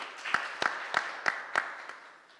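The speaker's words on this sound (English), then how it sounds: "A big round of applause to all of us." Audience at a hybrid summit on inclusive insurance claps a few times, about six faint, evenly spaced claps in a steady rhythm that fade out toward the end.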